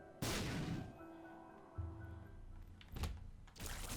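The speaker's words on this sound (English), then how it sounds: "Let's actually just bomb our way out of here." Bombs go off in The Binding of Isaac: Afterbirth, a few short, dull, booming blasts spaced a second or so apart, standing alone without talk.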